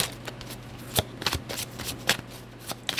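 Tarot cards riffled and shuffled by hand, a series of quick crisp flutters and soft taps in close succession, near and fairly quiet, with no talking over them.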